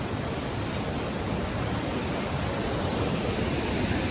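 Close waterfall near Rishikesh, a steady broadband roar of falling water that stays loud and unbroken throughout with no voices.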